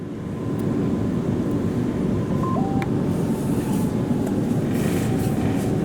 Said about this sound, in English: this is the train that's on platform 8 back to the city.